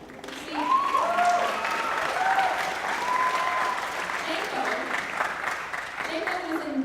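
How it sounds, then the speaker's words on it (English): A comedy show crowd gives fairly soft, sustained clapping that swells early and continues steadily, with voices faintly heard over the applause. "so just please give him a round of applause."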